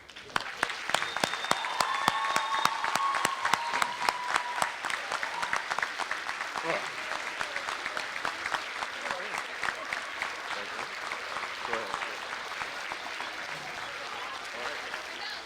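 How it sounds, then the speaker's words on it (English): An audience at an African American youth leadership conference breaks into a sustained round of applause, dense steady clapping that fills the whole stretch and eases slightly toward the end, with a few voices and brief whoops mixed in. "So please, with me, give them a round of applause of accomplishment"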